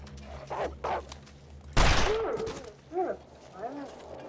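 A single loud gunshot from the survival video game The Long Dark, landing as a headshot, bursts out sharply mid-clip and rings off. Quieter game sounds and a faint voice-like tone come before and after it.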